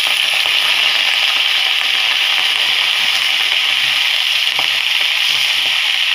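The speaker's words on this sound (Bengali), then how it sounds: "আমার এই শাকের ভাজার শব্দটা খুব ভালো লাগে, প্রথম দিলে যে শব্দটা হয় এটা খুব ভালো লাগে আমার।" Leafy greens hit a pan of hot oil and browned garlic, giving a loud, steady, close sizzle that stays constant throughout, with no talking.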